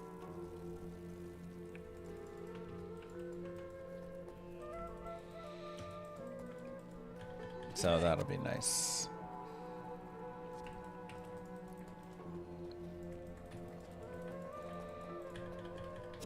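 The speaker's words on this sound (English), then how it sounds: "Welcome to the desert rain." Rain falling in a desert area of a video game, a soft continuous patter with light tapping drops, briefly interrupted by a loud burst midway, with a voice speaking over it.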